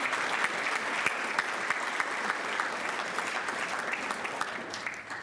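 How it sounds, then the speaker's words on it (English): A crowd claps steadily at a rising sophomore awards ceremony, dense and even applause from many hands throughout, with no voices standing out. "if we could give them another round of applause"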